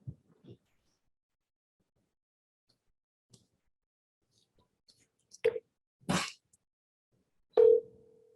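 A phone call being dialed amid quiet background, with a few sparse clicks and short tones followed by a brief steady dial tone near the end.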